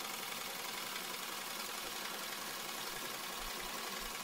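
A steam engine fed by a modified pressure cooker drives a generator of up to 500 watts in a disaster relief setup, making a steady broadband hiss and running rumble that stays even throughout with no talk.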